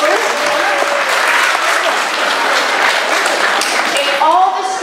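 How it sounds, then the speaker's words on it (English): An audience, likely schoolchildren at a talk on compassionate living, claps loudly and continuously, with a voice briefly rising over the clapping near the end. "Give her a clap."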